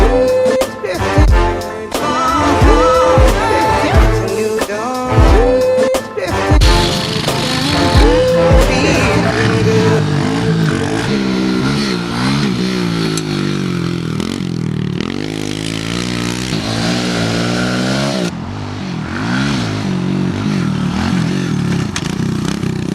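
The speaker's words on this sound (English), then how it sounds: "So I'm just going to go out now and have a quick ride on my 50" A small pit bike motorcycle, such as a CRF110 or KLX110, rides a backyard dirt track, its engine revving up and down loudly and continuously at close range with rising and falling pitch sweeps.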